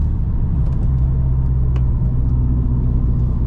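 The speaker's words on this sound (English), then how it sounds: "I have a roughness cycle on cylinder 2 right now though. So I think it's misfiring pretty bad" A big-turbo Subaru STI engine idles with a deep, steady rumble that sounds uneven, as with a bad misfire on cylinder 2. It is close and continuous, with no talk.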